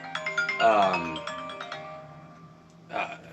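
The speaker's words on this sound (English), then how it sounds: "Got a phone call there." A phone ringtone sounds during a live chat stream: a bright, melodic electronic chime repeating over a few seconds, with a short burst of voice near the end.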